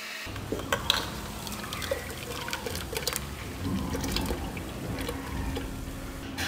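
Water poured into a freshly blended drink, a steady soft trickle and splash continuing throughout, fairly faint and close.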